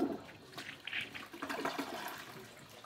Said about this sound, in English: Let's try full flush.